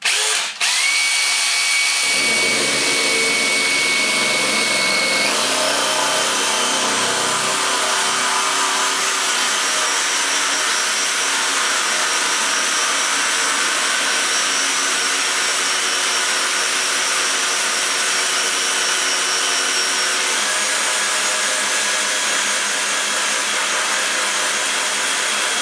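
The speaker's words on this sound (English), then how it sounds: "it's also good for you to get an idea of how quickly the drill goes in and goes through" A power drill bores through porcelain tile while a towel radiator is being hung, a loud, close, continuous whine holding steady for about 25 seconds with a slight change in pitch partway through.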